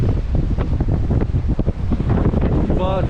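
Hurricane-force wind gusts batter the microphone at Sebastian Inlet in Florida, a continuous heavy roar with surging gusts and surf underneath, close and loud throughout.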